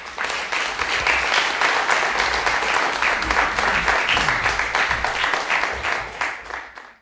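An audience at a talk on Bhutto and culture gives full applause as speaker Fakhar Zaman is invited to the stage, a loud, sustained patter of many hands for about seven seconds that fades out at the end.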